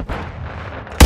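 A single heavy blast from a grenade launcher in Call of Duty: Modern Warfare 3 hits hard at the very end, following a moment of low background rumble.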